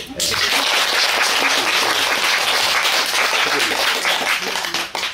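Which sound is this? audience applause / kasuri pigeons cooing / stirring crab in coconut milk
audience applause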